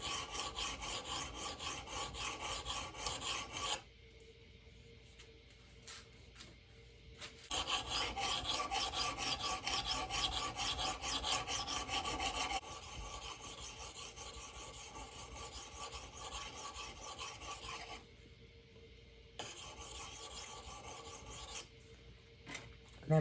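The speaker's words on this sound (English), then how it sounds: "You can go both ways with these because it's a diamond sharpener" A diamond sharpener rasps back and forth across the blade of a Plumb framing hatchet, in bursts of rapid, gritty filing strokes separated by short pauses, close and clear.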